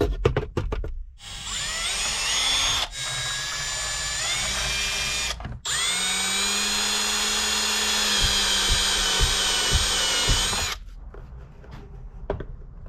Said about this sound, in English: cut a couple holes for the line and the wiring